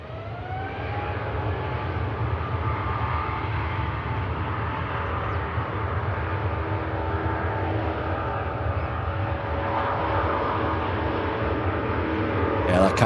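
A Cathay Pacific airliner taxis toward runway 23 left at Manchester Airport, a steady distant jet-engine roar with a rising whine that grows slightly louder toward the end, with no voices.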